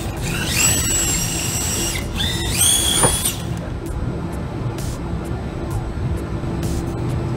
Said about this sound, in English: So I'm gonna go ahead and drill those out.